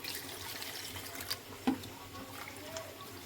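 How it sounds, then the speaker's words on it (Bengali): Aparajita (butterfly pea) flowers being rinsed under a running kitchen tap: a faint, steady trickle of water with a few soft splashes and patters. "ফুলগুলো নিয়ে নিয়েছি, ধুয়ে নেব।"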